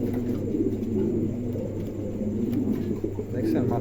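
A large male pigeon coos close by, a low, steady, throaty murmur rolling on without pause through the short stretch.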